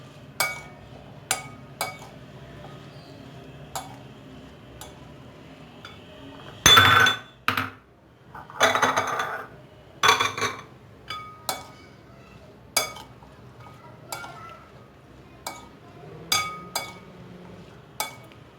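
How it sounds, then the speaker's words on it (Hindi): Green chilli pickle with lemon juice stirred in a bowl, a spoon giving sparse sharp clinks against the rim, a few louder scraping bursts in the middle, all fairly close and without talk. "अब मैं इसे अच्छी तरह से मिक्स कर लूँगी।"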